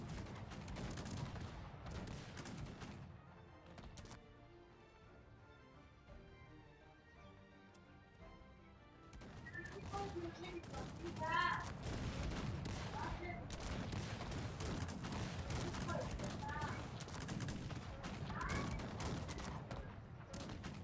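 Cannon fire in the video game Cossacks 3 rumbles as repeated booming volleys mixed with crackling gunfire in a dense, continuous battle din, growing louder in the second half.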